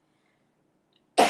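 A single sharp cough bursts out at the very end after a stretch of near silence.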